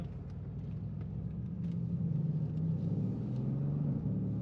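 A Mercedes C63 S AMG engine rumbles low and steady as the car pulls away, heard from inside with a muffled, throaty tone and a slight rise in pitch.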